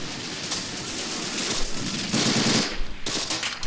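Machine gun fire in the Men of War Assault Squad 2 battle game, rapid bursts of shots over dense battlefield noise, with louder volleys toward the end.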